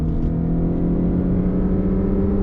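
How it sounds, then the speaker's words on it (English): A 2021 Lexus NX 300h F Sport Black Line Special Edition in sport mode, with an engine note piped through its speaker system, accelerating on a highway: a steady, loud, motorcycle-like droning hum that holds throughout. "if you're hearing like a motorcycle sound, there's not a motorcycle next to me like a sport bike. That's actually sound that's being created by the speaker system."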